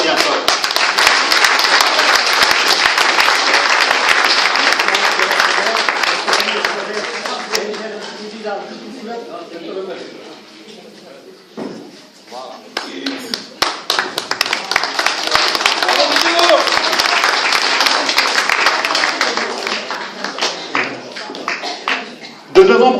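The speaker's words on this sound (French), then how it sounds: "Merci Paulette, on peut t'applaudir bien fort." Audience applause at an Age d'or club anniversary gathering in Saint André: dense, sustained clapping from a crowd that fades into a brief lull midway, then swells again into a second long round.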